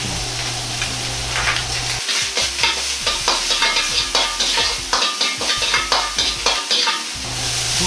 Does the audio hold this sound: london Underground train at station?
no